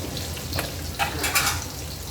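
Sardines stirred into vegetables frying in a pan give a steady close hiss, with a few soft scrapes and wet clatters from the spoon.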